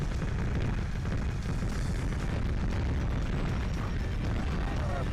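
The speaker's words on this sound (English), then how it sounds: "Big beady explosions!" Continuous loud blasts from the PlayStation tank game Mass Destruction, overlapping booms and rumbling bursts that keep coming without a pause.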